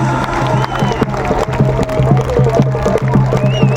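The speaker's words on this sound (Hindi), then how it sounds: "तालियों की गड़गड़ाहट जरा जोरदार।" Outdoor political rally crowd for Uttarakhand Chief Minister Pushkar Dhami, loud and continuous with cheering and clapping. A rhythmic, hum-laden drum or amplified beat and shouting voices run through it.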